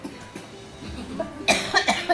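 A few short, sharp coughs near the end, close by, after a stretch of quiet background murmur.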